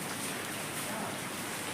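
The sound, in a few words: heavy rain falling outside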